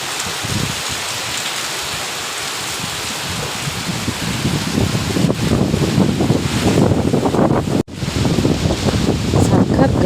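Steady roar of heavy rain with strong gusting wind at a house, building louder after the first few seconds and continuing without a break.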